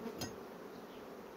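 Honey bees buzz around a hive box as the brood nest is moved for pollen collection, a steady close hum with a brief sharp knock near the start.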